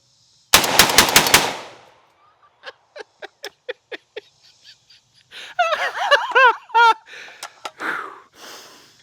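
Shotgun firing a full magazine during a messy torture test: a fast loud burst of about seven blasts, then a string of sharper spaced shots, followed by clattering handling noise and a few faint rustles.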